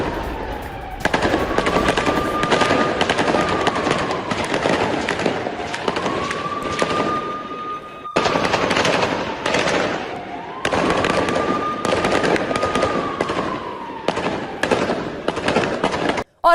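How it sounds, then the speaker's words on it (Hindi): Gunfire is exchanged in close battle on a front in Jenin, West Bank, with dense, loud bursts of rapid cracking shots that come in long stretches separated by brief pauses. "जेनिन के अल-हदफ फ्रंट पर आमने सामने की ये जंग जारी है और दोनों तरफ से गोलीबारी"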